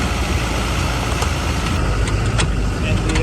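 Vehicle engine rumbling steadily through a ride toward Tikal, Guatemala, with constant low road and motor noise and a few faint clanks on top.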